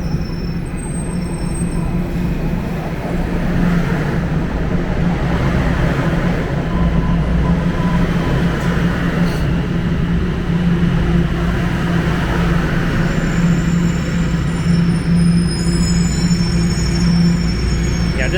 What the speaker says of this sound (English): Both trains arriving at the same time.